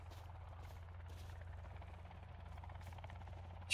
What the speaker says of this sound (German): Über uns ist ein Helikopter